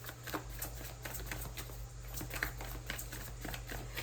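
Tarot cards being shuffled: a steady, continuous patter of riffling card edges, close and moderately loud over a low constant hum.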